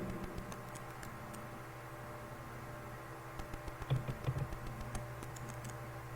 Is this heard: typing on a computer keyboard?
yes